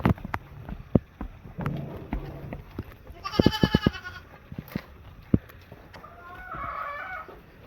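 A small mother goat and her one-month-old female kid bleating at a livestock sale, a wavering bleat mid-clip and another later, with roosters crowing and clucking nearby.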